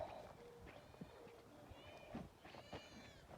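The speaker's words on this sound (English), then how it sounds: "Nothing like having the cats tell you that you're late to feed them." Several cats meow repeatedly, faint and fairly close, overlapping calls over a quiet background.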